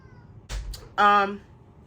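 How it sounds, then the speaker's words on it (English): A house cat meows once, a clear drawn-out call up close, following a brief bump or rustle, with a voice nearby in the room. "Excuse my cat."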